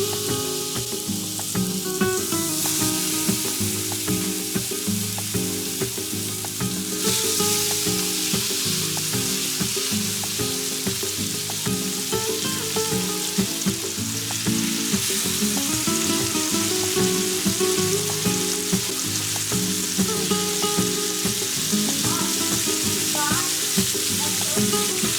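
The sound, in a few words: trout searing in oil on a hot comal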